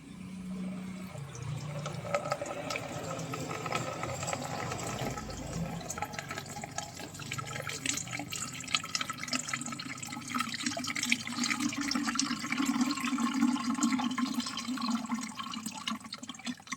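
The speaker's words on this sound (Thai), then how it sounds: "ผมก็จะมา ค่อยๆเทน้ำกรดออกเนาะ" Etching acid is poured slowly out of a container, giving a steady, continuous liquid pour and trickle close by for about seventeen seconds, with no talking.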